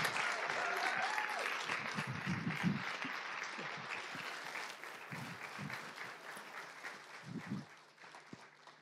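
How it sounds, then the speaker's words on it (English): Audience applause welcoming economist Stephanie Kelton on stage at an anniversary celebration event, a broad sustained wash of many clapping hands that gradually fades, with a few louder claps near the end. "A warm applause for Stephanie Kelton."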